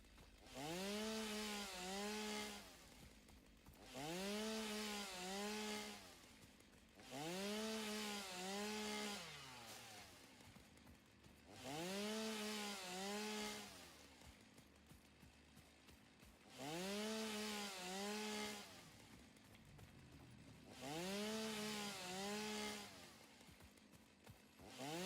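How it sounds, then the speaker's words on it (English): A chainsaw cutting wood in the factory-building game Satisfactory, its engine revving in steady repeated bursts of roughly two seconds, each followed by a brief idle, loud and continuous with no talking. "So far, though, this chainsaw is doing a world better than what the other stuff was."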